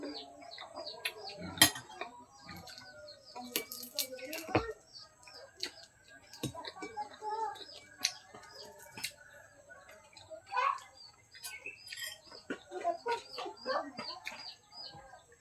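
Chickens and chicks clucking and chirping near and far at feeding time, with scattered clinks and taps of dishes in the background.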